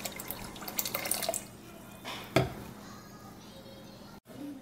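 Special malt wort for a pumpkin beer being poured into the brew, heard as a splashing liquid stream that trickles off after about a second and a half, followed by quieter drips and small knocks.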